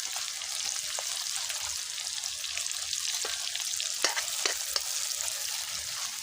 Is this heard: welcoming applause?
no